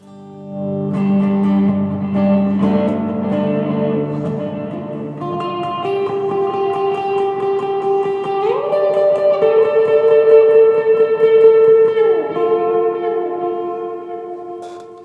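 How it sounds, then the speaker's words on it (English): Sustained electric guitar chords played with a gritty, distorted tone and echoey effects, ringing out and shifting between voicings, no talking. "then you can throw on some distortion"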